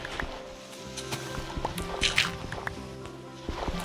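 Water flowing in Minecraft Bedrock Edition, heard as soft bubbly trickling with scattered drips and splashes over a low steady wash, with no talk.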